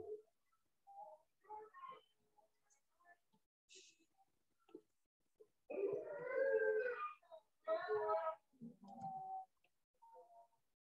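Dog howling in the background, a few drawn-out, wavering cries rising and falling at moderate distance, with quieter gaps between them.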